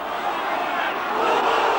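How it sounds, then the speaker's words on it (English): Rugby league crowd at a Castleford v Warrington match, a dense continuous roar of many voices rising in protest and swelling toward the end, loud and close with no clear single voice. "The crowd beneath me over this side of the pitch didn't approve"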